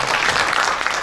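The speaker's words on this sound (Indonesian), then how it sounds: "Beri tepuk tangan bagi Tuhan kita." A brief burst of dense, loud applause from a church congregation during a worship service, with steady clapping filling the whole moment.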